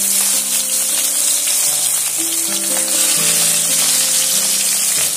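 Pieces of rohu fish frying in oil in a pan, a loud, close, continuous sizzle that holds steady for the whole stretch with no voices.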